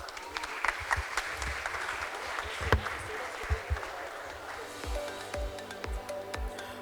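An audience at a business investment panel discussion gives a scattered round of applause, fairly faint and distant, with individual claps thinning out toward the end.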